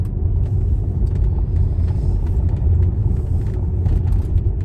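Inside a Tesla Model S 75D driven hard down a bumpy, potholed country A road, heavy low road rumble and tyre roar fill the cabin steadily, with faint knocks and rattles over the surface and no talking.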